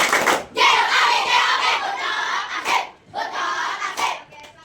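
A Year 5 primary school class performs a clapping chant in a classroom, with bursts of rhythmic clapping and shouted children's voices in three loud segments separated by short pauses.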